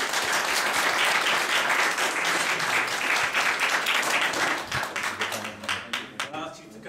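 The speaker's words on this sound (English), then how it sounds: "give him a warm round of applause" Warm round of applause from an audience for a Cuban Embassy guest at a Marx 200 event, dense and loud at first, then thinning into scattered claps before fading, with talk coming in near the end.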